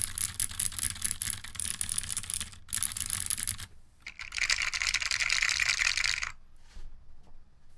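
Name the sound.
typing on keyboard with linear CJ switches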